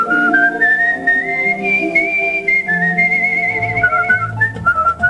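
A skilled whistler carries a bright, sustained melody with smooth gliding pitch, loud and close, alone with no other sound.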